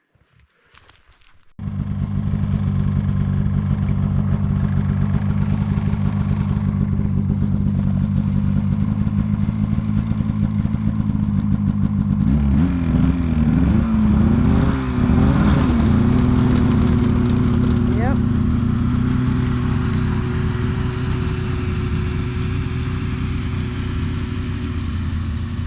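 Snowmobile hauling a load of wood across an icy slough, its engine starting up and then running loud and close in a steady drone, rising and shifting pitch partway through as it works harder.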